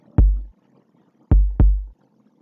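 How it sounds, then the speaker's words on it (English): Three deep, booming kick drum hits from an Afrobeat beat in FL Studio at 106 BPM, one alone and then a quick pair, each short and punchy with a quick decay, alone with no voice. "The tempo is 106, and the drum kick sounds like this."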